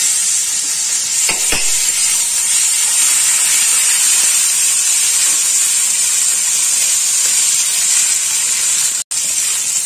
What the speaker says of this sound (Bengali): এবার আমি এর মধ্যে দিয়ে দেবো 1 চামচ আদা বাটা।